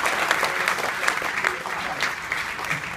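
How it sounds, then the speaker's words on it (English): An audience at a cruise ship comedy show applauds, dense clapping and some crowd noise holding steady, with a voice briefly audible through it. "Give them a huge round of applause!"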